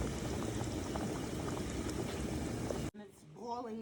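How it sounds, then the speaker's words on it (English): A pot of water bubbles steadily on the lowest heat before ravioli goes in, a close, constant seething that stops abruptly and gives way to a brief voice. "It's boiling at its lowest temperature possible."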